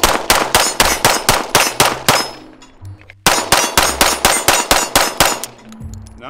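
A Glock pistol fires 124-grain ammunition from OEM magazines in two rapid strings of about nine to ten sharp shots each, loud and close, separated by a short pause with faint rattling, no talking.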